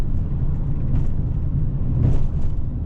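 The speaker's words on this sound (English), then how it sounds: "What is that? Dump truck?" A dump truck rolls past on a highway road, a heavy, close, low rumble that holds steady and swells slightly near the end, with no voices over it.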